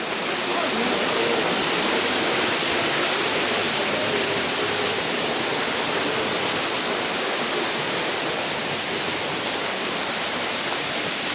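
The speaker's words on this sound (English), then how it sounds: "He must have built this little creek as well." Small man-made creek at Paronella Park flowing steadily, a dense continuous rush of water close by, broad and unbroken for the whole stretch.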